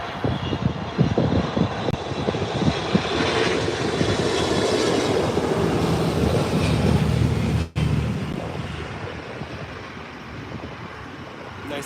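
A United Airlines Boeing 777-200 landing at LAX on runway 24R, a loud broad jet engine roar with rumbling low end sustained through the pass, then a sudden brief dropout before the roar continues and fades slightly.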